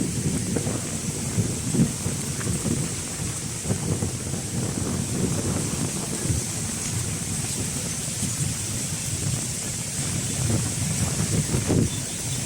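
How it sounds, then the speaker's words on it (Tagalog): Rain falls steadily over Manila Bay as a continuous broadband hiss, with low thunder rumbles rolling underneath and some wind buffeting the microphone. "ayan, umuulan na ulit."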